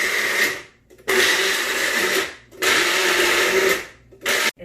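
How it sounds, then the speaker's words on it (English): A kitchen blender purées a cooked Indian recipe mix into a smooth paste in three loud bursts of whirring and grinding, each cut off by short pauses, the last burst very brief. "It's in the blender. Let's give it a blend."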